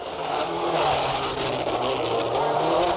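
Ken Block's number 43 rally car on an X-Games super special course, a loud, close engine roar revving hard and continuously through the few seconds with crowd and stadium wash beneath.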